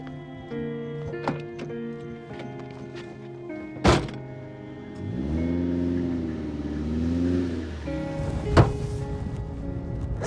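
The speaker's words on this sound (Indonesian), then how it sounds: "mobil yang barusan tadi itu pasti mobil membawa Saskia" A car starts up and pulls away at mid distance, its engine rising and falling for a few seconds after a couple of door thunks, with a sharp knock near the end.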